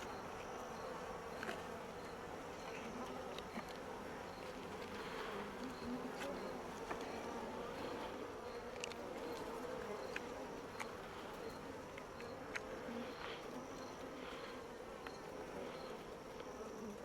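Honeybees buzz steadily around a nucleus colony hive outdoors, a dense, even drone of many wings with occasional closer passes, continuous and alone with no talk.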